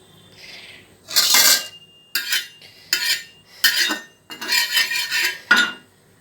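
A frying pan set down on a stove for a pointed gourd mash, giving a series of metallic clanks and scrapes in short bursts, close and fairly loud, with no talk.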